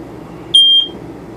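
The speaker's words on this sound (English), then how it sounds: "all the units have a smoke alarm where you can test them" A smoke alarm inside an RV is tested. It gives one short, shrill electronic beep of about a quarter second, loud and close over faint room noise.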